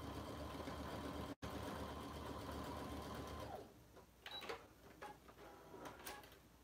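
A sewing machine stitches a seam across a fabric bag, whirring steadily and closely for about three and a half seconds before stopping, followed by a few faint clicks and handling noises.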